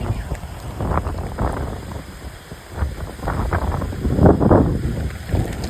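Strong gusty wind roars in a Botad village during a thunderstorm with rain, buffeting the microphone in surging waves that swell and ease, loudest near the end.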